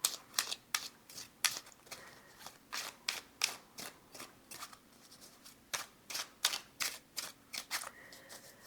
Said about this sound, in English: That was a very, very long shuffle